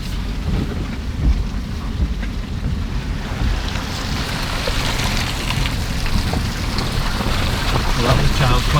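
Rain and wind buffet a Suzuki S-Cross Hybrid driven off-road, a steady loud rushing wash of wet noise that builds slightly toward the end.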